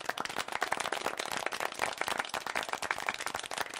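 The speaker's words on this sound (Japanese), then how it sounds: "拍手の中" Dense, continuous applause from a cinema audience of zombies after a film screening, loud and close, filling the scene with overlapping hand claps and no talk.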